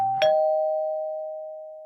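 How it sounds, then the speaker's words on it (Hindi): A single doorbell chime strikes once, then its clear tone rings on and slowly fades away, alone in a quiet room. "घर पे डोरबेल बजी"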